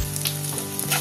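Onion with ginger and garlic frying in a pan, a brief steady sizzle with faint stirring crackles, close and continuous with no voices.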